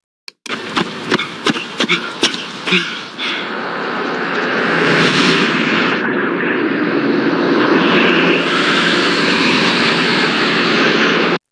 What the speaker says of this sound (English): In the second shot, we can see an airplane.